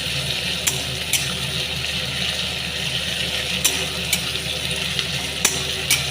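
Mutton sautéing with ginger and garlic in a pan, a steady sizzling hiss with occasional sharp clinks of a spoon against the pot, heard alone at moderate level.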